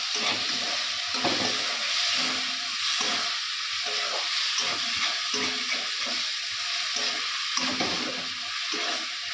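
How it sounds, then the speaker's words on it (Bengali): Prawns fry in a pan with a steady, close sizzle that holds throughout, broken by faint scrapes and clinks as they are stirred. "তো দেখি চিংড়ি মাছ বেশি ভাজবো না।"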